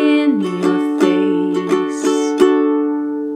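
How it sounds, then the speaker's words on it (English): Acoustic guitar chords strummed in a steady pattern for a ballad, clear and close with sharp strum accents roughly every half second and ringing sustain fading out at the end, no voice. "And then moving to the strumming pattern, it sounds like this."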